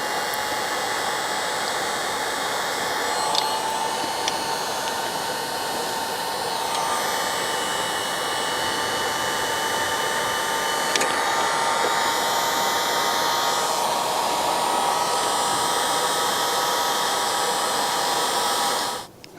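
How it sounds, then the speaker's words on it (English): A heat gun blows steadily and loudly for about nineteen seconds while shrinking heat-shrink tubing over a wire join on a crash-damaged BMW, then cuts off abruptly at the end, no voices. "Slide the heat shrinking tube over and we can get the heat gun."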